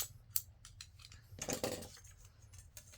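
Quiet, crisp snips of scissors cutting paper, several short cuts in an uneven rhythm, close by.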